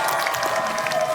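A studio audience on a TV cooking show claps steadily, a brief, dense burst of applause with a faint voice under it.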